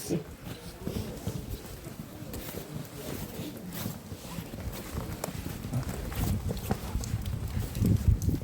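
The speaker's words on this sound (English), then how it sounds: "Icelandic horses, they're outside." Icelandic horses walking outdoors, their hooves clip-clopping in a steady, busy patter at close range, with wind and faint rustling mixed in.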